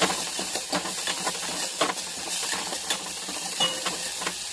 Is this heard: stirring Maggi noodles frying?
yes